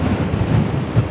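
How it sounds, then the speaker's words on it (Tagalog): Strong wind buffets the microphone beside Taal Lake, a steady, loud low rumble with gusty swells and no voices. "medyo malakas lang yung hangin kaya nakakatakot lumapit dito"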